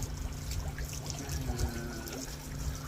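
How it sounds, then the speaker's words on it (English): Water trickles and pours into a small oak barrel, a soft close gurgling stream with faint bubbling, fairly quiet and without talk. "start forcing water through the spout, out the bung"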